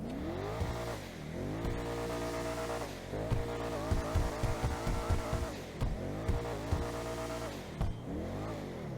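The engine of a Gallivanter Baller ST SUV in GTA Online revs repeatedly, rising and falling in pitch with sharp throttle blips, loud and close, with no talking.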